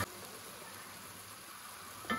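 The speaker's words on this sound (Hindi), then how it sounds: "इस तरह टमाटरों को अच्छे से भून लें" Tomatoes fry in a pan for a mutton biryani with a steady, soft, even sizzle that runs continuously at low volume, with no talking.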